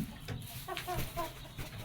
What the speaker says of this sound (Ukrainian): Ви боязка курочка така.